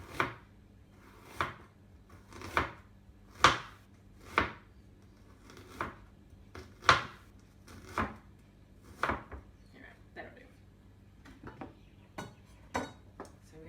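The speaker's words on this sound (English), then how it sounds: "So when you're chopping with a knife, if you pull the fingers back and butt the knife up against the knuckles, that's going to help" A knife chops through onion on a board in a steady series of about a dozen crisp, close knocks spaced roughly a second apart, with no talking.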